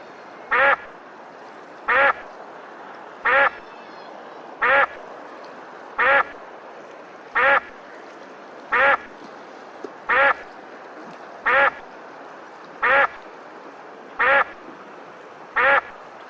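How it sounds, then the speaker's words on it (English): A duck quacks a dozen times at a steady, unhurried pace, each single quack clear and close against a quiet background. "D-U-C-K. बत्तख."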